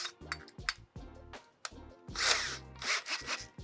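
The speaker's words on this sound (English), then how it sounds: "go right down in it and basically drill out your floor like this" A 2-inch hole saw on a drill cuts into a Sprinter van floor in short grinding bursts with brief pauses between, ending in a longer, louder rasping cut, close by.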